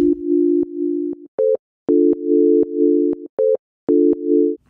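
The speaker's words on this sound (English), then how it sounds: "So what I'll do is I'll play it just with the sine waves." Synthesizer sine-wave oscillators playing a short, loud, steady melodic phrase of sustained pure tones, broken into several held notes separated by brief silences and a couple of higher short notes.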